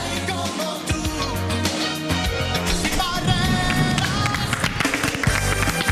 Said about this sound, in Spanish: tremendo el aplauso para el trabajo del equipo periodístico de Hola Chile